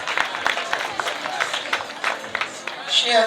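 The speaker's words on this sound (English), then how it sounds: "Clap hands for her." A crowd claps steadily at a school prefects' handover party, dense overlapping hand claps in a continuous patter with some voices mixed in.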